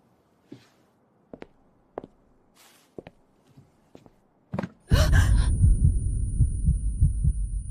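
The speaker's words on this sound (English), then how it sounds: "Only the heartbeat roars." Heartbeat thumps sound one by one in near silence, a few spaced, soft pulses, before a sudden loud, dense roar of sound swells up and holds to the end.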